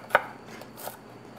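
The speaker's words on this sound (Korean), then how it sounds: "잘게 자르셔서" A knife chops fresh ginseng into small pieces on a cutting board, giving one sharp close knock and then a softer second tap in a quiet room.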